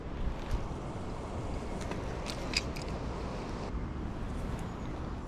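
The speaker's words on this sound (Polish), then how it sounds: "Wiatr się nieco wzmógł" Wind blows steadily at a lakeside or waterside fishing spot, a constant rushing roar with slight gusts buffeting the microphone.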